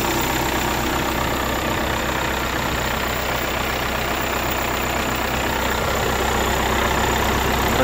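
An Opel Vectra C wagon's 1.9 CDTI diesel idles cold, an even, unbroken hum heard up close with no voices over it.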